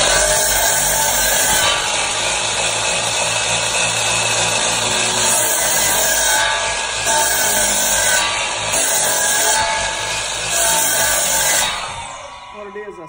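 A power saw scores a log for a farm table, a loud sustained whine that wavers as the blade bites and eases, cutting off near the end.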